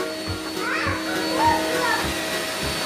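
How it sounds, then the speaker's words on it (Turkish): Several children run vacuum cleaners over the house carpets at once, a steady motor drone close by with rhythmic thumps as the machines are pushed back and forth, while a voice rises briefly over the hum. "Süpürgeleri kapatabilirsiniz çocuklar."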